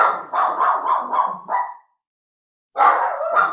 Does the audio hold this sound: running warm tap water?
no